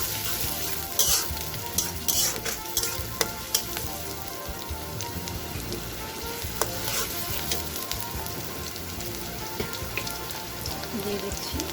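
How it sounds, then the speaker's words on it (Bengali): Chopped onions sizzling in a pan, a steady crackling fry with sharp pops and occasional stirring clatters, close and continuous. "পেঁয়াজ কুচি, হালকা একটু ভেজে নিয়ে"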